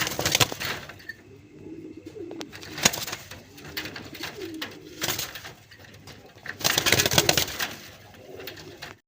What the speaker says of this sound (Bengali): বন্ধুরা এখানে আরেক জোড়া মাক্সি গোল্লা কবুতর দেখেন, পুরান জাতের।